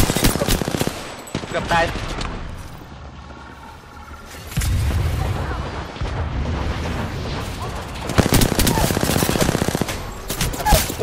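Gunfire in the Apex Legends battle royale game: rapid automatic bursts rattle loudly at the start and again near the end, separated by a quieter lull. Someone speaks briefly between the bursts.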